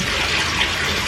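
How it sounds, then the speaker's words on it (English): Water runs steadily into a bathtub, a continuous close hiss and splash from the tap with no other sounds over it. "we're gonna just get in there and run some water"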